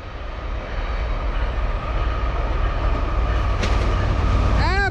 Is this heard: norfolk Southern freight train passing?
yes